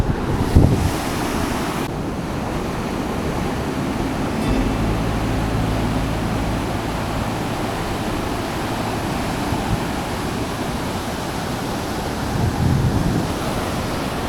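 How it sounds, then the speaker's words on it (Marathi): Sea waves crash and rush steadily onto the Konkan coast shore, mixed with strong wind buffeting the microphone, with no pause in the roar. "लाटा खूप अशा भयंकर वाटत आहेत"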